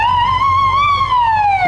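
A State Patrol car's siren wails loud and close during a rodeo parade, a steady rising and falling electronic tone with strong harmonics over low engine rumble, with no voices.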